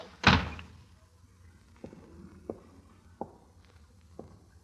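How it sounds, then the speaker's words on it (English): A door bangs shut sharply up close in an old radio drama, followed by a few soft, scattered footsteps or thuds in a quiet room. "Grace, if you go out that door, we're through"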